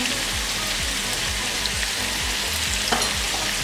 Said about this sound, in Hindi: मसालों के साथ हमने इसको अच्छे से फ्राई कर लिया।